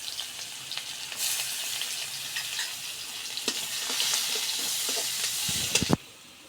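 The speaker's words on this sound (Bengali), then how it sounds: "মাছ ভাজার তেলে আমরা পেঁয়াজ কুচি দিয়ে দিলাম" Chopped onions sizzle in the oil left over from frying fish, the hiss swelling as they go in and staying steady with occasional stirring scrapes. A sharp knock comes just before the sound cuts off.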